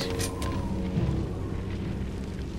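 Missile explosions during a boss fight in Metal Gear Solid 2: Sons of Liberty, a dense, sustained low rumble of booming blasts with a brighter burst near the start, continuous and loud throughout.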